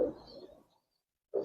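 Giribaz high flyer pigeon cooing in two short bursts, a soft throaty coo at the start that fades out, a pause of near silence, then another coo starting near the end, close and fairly quiet.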